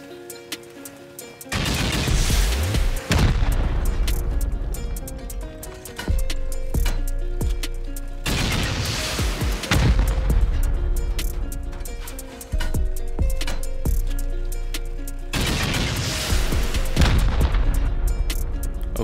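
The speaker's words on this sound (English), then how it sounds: "we'll start sending some rockets into here, see what we can do" Rockets slamming into armored bunker walls in a survival raiding game, three heavy booming impacts spaced several seconds apart, each followed by a long rumbling decay over steady background hum.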